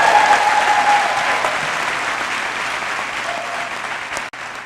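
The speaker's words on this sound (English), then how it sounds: "Give yourselves a round of applause." Graduates and guests at a charter school's first commencement ceremony applaud, sustained crowd clapping that starts strong and slowly tapers, with faint cheers mixed in.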